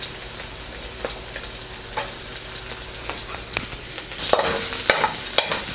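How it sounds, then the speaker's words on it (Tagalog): Garlic sautés in oil with a little sesame oil, a steady close sizzle broken by scattered scraping stirs and light clicks from the utensil, growing a bit louder toward the end. "Ngayon po ay igigisa na natin yung bawang."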